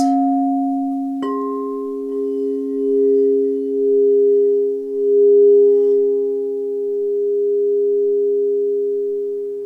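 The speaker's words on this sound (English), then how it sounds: "the vibrations of the bowls will shift and dance" Crystal singing bowls tuned to 432 Hz sustain smooth, pure overlapping tones that swell and waver gently; a soft strike early on adds a second, higher ringing note that hums on alone with no voices.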